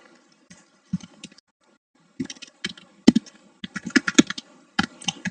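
Typing on a computer keyboard, with bursts of close, crisp key clicks separated by short pauses, growing denser toward the end; no one speaks.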